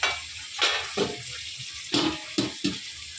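Meat cooks in a pan with a low sizzle broken by several sharp bursts of stirring and spatter, close by and without speech.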